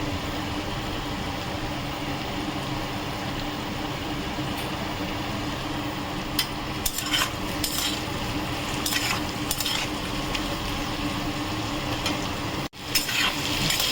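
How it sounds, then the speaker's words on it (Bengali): Potato and onion frying together in a pan, a dense continuous sizzle with occasional utensil scrapes and clinks from stirring, close and steady. "দেখো আলু পেঁয়াজটাকে আমি একসঙ্গে ভাজছি।"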